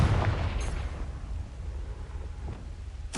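A Confringo fire spell bursts in the video game Hogwarts Legacy amid a rumbling, noisy battle din, with a short blast early and another sharp explosive burst at the very end.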